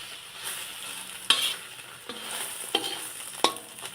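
Food frying in a pan, with a soft, fairly quiet continuous sizzle broken by a few sharp crackles and pops of spattering oil.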